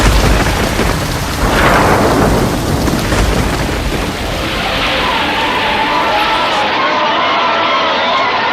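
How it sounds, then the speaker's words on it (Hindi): Heavy rain and thunder sound effect for a stage play about Govardhan Leela: a loud, continuous roar of downpour with rumbling thunder swells, sustained and dense throughout. "कार्तिक मास में इतनी भारी वर्षा।"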